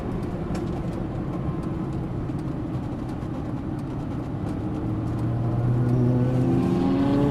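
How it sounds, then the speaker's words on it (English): Lamborghini Gallardo engine droning steadily on a racetrack as another car overtakes on the left, a rising engine tone swelling near the end over the constant cabin roar. "We're going to have a car pass us on our left."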